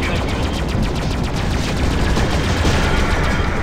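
Rapid weapon fire from a space combat game, a dense continuous barrage of shots with fast regular pulses, loud and steady throughout with no talking.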